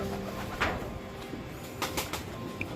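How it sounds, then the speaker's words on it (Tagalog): Breeder pigeons in a loft give soft, low cooing over a steady background hum, with a few brief louder calls and faint rustling scattered through the short stretch. "Yung mga kalapatids,"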